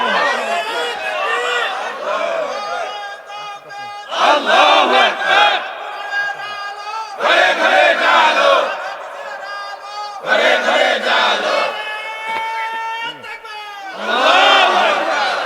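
A large crowd at an Islamic sermon shouts slogans in unison, with loud bursts of massed voices alternating with a single preacher speaking over a microphone.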